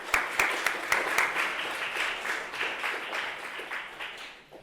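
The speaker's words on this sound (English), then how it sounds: "let's give a round of applause for David and welcome him" An audience claps to welcome a panel speaker at an evening event at SVA, a dense burst of applause with a few sharp early claps that thins gradually over several seconds, fairly near and alone.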